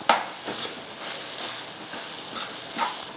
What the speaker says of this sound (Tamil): தேங்காய் சேர்த்து நல்லா கலந்து விட்டுட்டேன்